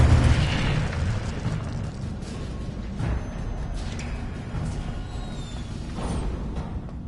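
The Incendio fire spell is cast in the Hogwarts Legacy game, giving a loud, rumbling whoosh of flame that opens with a heavy low burst and carries on as a steady roar with a few crackling pops.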